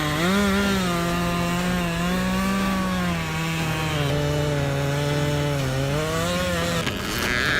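A chainsaw cuts through a huge tree trunk while felling it, its engine holding a loud, steady, buzzing whine close by for several seconds with slight pitch dips under load, then easing off at the end.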